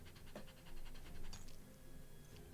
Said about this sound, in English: I'm sorry about you hearing the dog though,